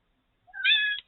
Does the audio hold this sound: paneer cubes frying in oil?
no